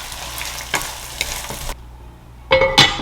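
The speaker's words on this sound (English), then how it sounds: "I'm gonna let the green beans keep cooking for just a little bit, and then I'm gonna add in the shrimp." Shrimp and green beans fry in a pan with a steady crackling sizzle, broken by sharp stirring scrapes, then a short quiet pause before louder sizzling bursts resume, with no talking.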